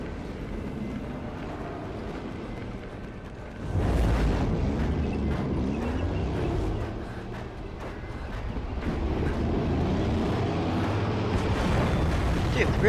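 Booming explosions in the Metal Gear Solid V video game, a loud deep blast hitting around four seconds and followed by sustained rumbling chaos, with a person talking over parts of it.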